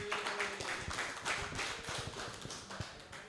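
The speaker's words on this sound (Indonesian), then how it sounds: "tepuk tangan sekali buat Eric Joe" Audience clapping for a performer at a talent show stage, a steady patter of hand claps that sounds fairly quiet and a little distant.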